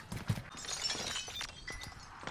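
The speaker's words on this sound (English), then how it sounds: "Glass broke. I just heard glass." Glass shattering in the Call of Duty Warzone video game: a sharp crash with a scatter of bright tinkling fragments, followed by ongoing game noise and clatter.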